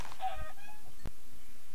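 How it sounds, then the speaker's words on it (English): Minecraft chickens give a couple of short, clear clucks close by at the start, followed by a single sharp click in an otherwise quiet game scene. "The chickens are even here."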